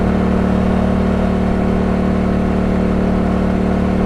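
A Honda Africa Twin motorcycle engine and exhaust drone loudly and steadily, a constant close-up rumble with a low hum that holds throughout.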